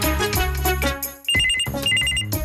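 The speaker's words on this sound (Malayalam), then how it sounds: "നീ പോയി ആ ഫോൺ എടുക്ക്." A telephone rings with a repeating electronic tone in short bursts, a pause before the next ring, loud and close with no talking.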